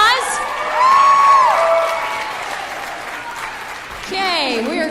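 An audience at a school teachers' game show gives a teacher a round of applause with cheers and whoops, clapping steady throughout while excited shouts rise briefly near the start and again at the end.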